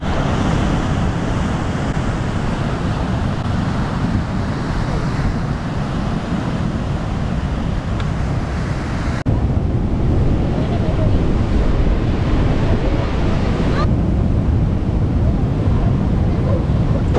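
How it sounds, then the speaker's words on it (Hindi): Strong sea waves surge against the basalt rock coast at Giant's Causeway in Northern Ireland, a continuous loud, rushing roar mixed with heavy wind buffeting on the microphone that barely eases over the whole stretch. "इतनी तेज तेज पानी आ रहा है इतनी तेज तेज आ रहा सा लग रहा है"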